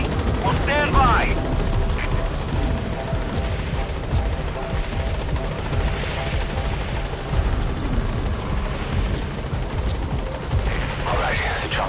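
In Metal Gear Solid V, a helicopter sets down at a landing zone with a loud, continuous rotor chop and engine drone throughout, with voices now and then over it.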